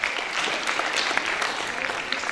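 Audience applause at a school National Librarian Day event, a dense, steady patter of many hands clapping throughout, moderately loud and continuous with no talk over it.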